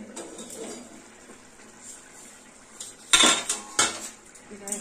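A metal lid lifted off a pot of potato curry, a couple of sharp clanks and rattles near the end after soft kitchen clinks, close and bright.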